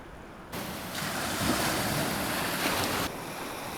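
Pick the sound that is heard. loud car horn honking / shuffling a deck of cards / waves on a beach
waves on a beach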